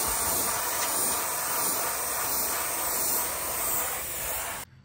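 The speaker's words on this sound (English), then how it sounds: "I'm gonna be aiming through the tape itself, and just getting the overspray, the dust, from over the corner to create a shadow" An airbrush or spray gun applies paint through masking tape onto a car bumper, producing a close, steady hiss of overspray that runs for several seconds and then cuts off abruptly.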